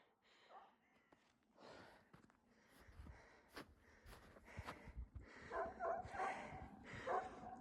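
Several dogs bark, yip and whimper at a distance in a noisy jumble, growing busier and louder toward the end, faint overall.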